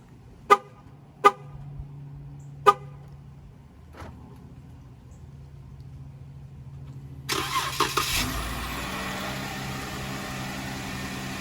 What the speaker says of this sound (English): Okay, so the vehicle is started.